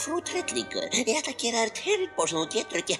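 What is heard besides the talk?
No everyday noises stand out.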